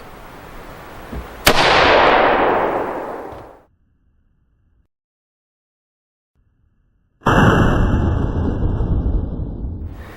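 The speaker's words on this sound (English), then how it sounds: "Shot number 1 with the Precision Armament M472 original ammo." An AR-15 fitted with a Precision Armament M472 muzzle brake fires one sharp, very loud shot with original ammo at an outdoor range, with a long decaying blast. Silence follows, then another loud burst of noise.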